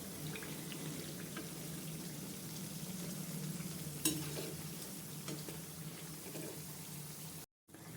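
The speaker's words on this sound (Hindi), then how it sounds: "धीमे आंच पे आप इनको फ्राई करेंगे तो इनके जो लेयर है ना वो अच्छे से खुल पाएंगे" Layered namakpare frying gently over low heat, a soft, even bubbling hiss throughout with one brief utensil clink midway and a short dropout near the end, no speech.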